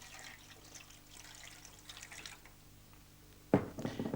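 Water is poured for mixing wallpaper paste, a soft dripping trickle that turns into a louder, close splash near the end.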